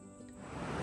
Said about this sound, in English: We're finally getting some much needed rain here in central Kentucky.